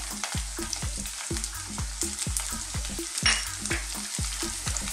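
Garlic fries for beef salpicao in a steady close sizzle, broken by quick, regular stirring strokes, roughly a dozen evenly spaced scrapes, with no voices.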